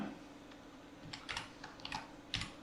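Faint, close clicks of a computer keyboard come in a short, irregular run of keystrokes while text is entered into a Google Sheets spreadsheet.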